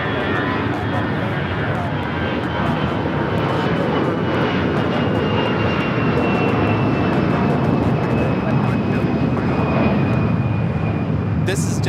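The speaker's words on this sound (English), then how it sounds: "1024 taking off to San Antonio, Texas on the A319" A Delta Air Lines Airbus A319 jet takes off at Los Angeles International Airport, its engines a loud, steady roar holding throughout with voices talking over it.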